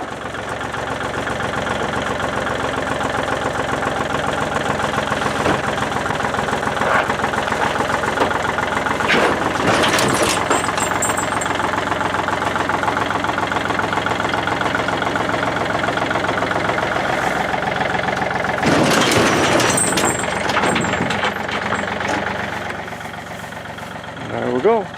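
A vintage GMC V12 truck engine idling steadily and loud throughout, with a couple of brief bursts of broadband noise mid-run and a slight drop near the end.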